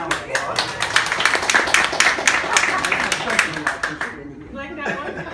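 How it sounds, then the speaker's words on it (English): Audience applause and clapping from a lecture crowd, dense and steady for about four seconds before tapering off, with a few chuckles mixed in and a voice starting to talk near the end. "Let's give another round of applause."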